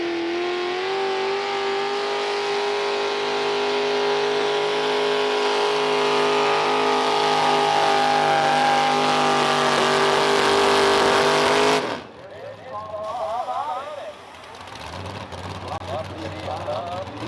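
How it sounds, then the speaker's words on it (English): A pulling tractor revs hard at a tractor pull, a loud sustained roar with climbing harmonics for most of the run before cutting off abruptly, then crowd noise and an announcer's voice follow. "Tractor running well."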